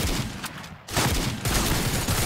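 Gunshots in a prison escape video game: dense, continuous bursts of rapid gunfire with a brief lull, loud and close throughout.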